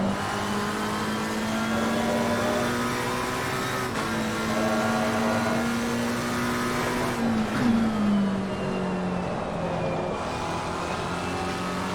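McLaren GT race car in the Assetto Corsa Competizione racing game, its engine droning steadily at high revs through a corner, pitch dipping briefly around a shift and then settling lower, loud and continuous with no talk.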